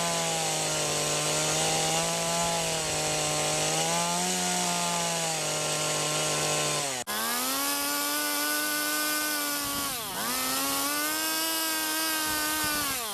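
A carving tool trims excess wood around the beak of a carved wooden owl, giving a loud, sustained high whine that briefly cuts out and dips in pitch as it bites into the wood.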